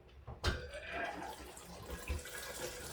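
Tap water runs through a freshly fitted activated-carbon filter into a bowl beneath, a steady close splashing flow that starts abruptly and continues, rinsing loose charcoal out.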